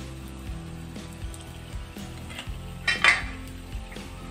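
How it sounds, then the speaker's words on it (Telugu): A plate is set as a lid over a pan of bread-crumb snacks cooking in a little oil. Soft clinks and scrapes lead to one brighter metallic clank, over a low, steady sizzle. "కొంచెం ఆయిల్ వేసుకుని ప్లేట్ మూతేద్దాం"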